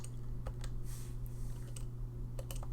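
Rapid, irregular keystrokes on a computer keyboard while working in energy simulation software, a quiet close run of light clicks over a steady low hum, with no talking.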